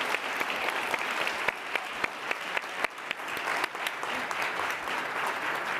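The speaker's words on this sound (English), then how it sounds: "let's give him a warm round of applause" An audience at a museum event claps in sustained, dense applause, steady and moderately loud throughout.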